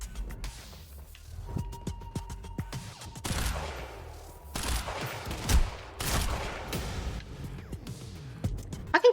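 Sniper fire in the time-manipulation shooter game Quantum, several sharp, widely spaced cracks amid other gunshots and impacts, with quiet stretches between the loud bursts.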